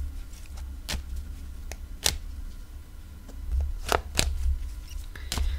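Tarot cards being handled and drawn: a few sharp flicks and soft shuffling snaps spaced apart over a low, steady hum.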